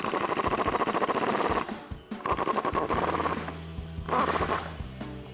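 A 10mm socket driving bolts tight during a Toyota 4Runner rear suspension lift install, giving a loud, rapid mechanical rattle in bursts with short pauses between runs.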